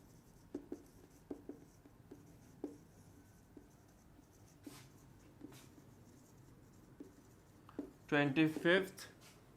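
A pen writes an English lesson out by hand on paper, making quiet scratches and small taps in an irregular rhythm. Near the end a voice speaks briefly.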